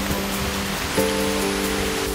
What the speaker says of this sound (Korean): 와, 이 물소리 점점 크게 들린다, 이거